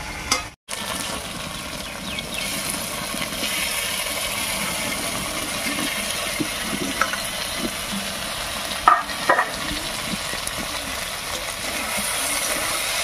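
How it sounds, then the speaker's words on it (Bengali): Boiled taro stolons being stirred into a frying spice paste for a prawn curry, a steady loud sizzle with scraping stirs and a couple of sharp clanks, with no talking. "এবার এর মধ্যে সেদ্ধ করে রাখা কচুরলতিটা দেবো।"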